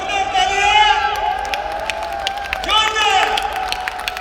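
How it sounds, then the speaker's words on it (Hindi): An audience at an Enagic Emguard product training in India applauds and cheers, steady clapping spread through the room under a loud, pitch-sliding voice that rises over the crowd. "जोरदार तालियां!"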